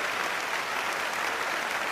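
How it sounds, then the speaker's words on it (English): An audience at a magic show applauds a volunteer, a dense, steady wash of clapping that fills the room loudly and evenly from start to finish. "Let's applaud for him because it's good."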